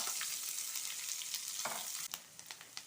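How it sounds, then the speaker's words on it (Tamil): Garlic cloves, onion and green chillies fry in a pan, a steady bright sizzle running throughout with a few sharp crackles and stirring scrapes near the end. "பூண்டு பல், வெங்காயம், பச்சை மிளகாய் சேர்த்துடலாம். இது நல்லா 1 நிமிஷம் போல் வதக்கி விட்டுறலாம்."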